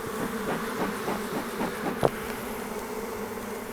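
Bees buzz steadily throughout a fall beehive inspection, a close, dense hum of many insects with one brief knock partway through.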